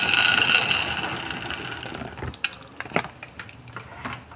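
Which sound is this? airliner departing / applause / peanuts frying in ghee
peanuts frying in ghee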